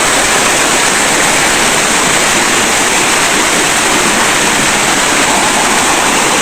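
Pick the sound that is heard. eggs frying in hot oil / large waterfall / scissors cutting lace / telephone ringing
large waterfall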